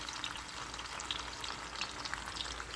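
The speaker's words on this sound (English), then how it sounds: "So there, they're frying." Ripe sweet plantains (maduros) frying in a pan on a stovetop, giving a soft, constant sizzle with scattered small pops and spits, close but fairly quiet, with no talking.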